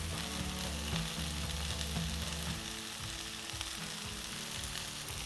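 Onions and garlic fry in a pan for a slow-cooked lamb shank dish, a quiet, constant sizzle and crackle with a few soft stirring knocks and no talk.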